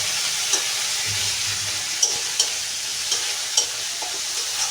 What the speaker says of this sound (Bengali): এখন আমি তার মধ্যে দিয়ে দেবো এই পেঁয়াজ কুচিটা। এখন ভালো করে নেড়ে চেড়ে নেব।